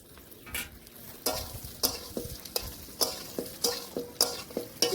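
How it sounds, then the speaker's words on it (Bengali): Jujubes being lightly fried in a pan for a sweet chutney, with a steady close sizzle broken by repeated sharp scraping stir strokes at an uneven rhythm; no one speaks. "কুলগুলোকে একটু হালকা ভেজে নিচ্ছি।"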